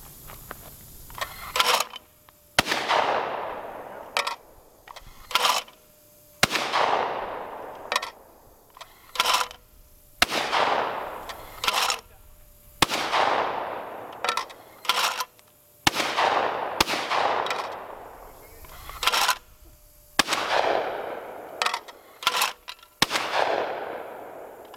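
Sharp shotgun blasts from clay target shooting with a Do All FF550 Fire Fly auto trap, roughly a dozen loud reports at irregular intervals, each ringing out and decaying into open outdoor air, with no talking.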